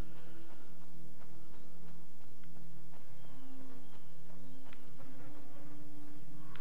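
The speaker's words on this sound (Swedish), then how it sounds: "Flugor." Flies buzzing in the video game State of Decay, a steady close insect drone with wavering tones that persists throughout, alone without talk.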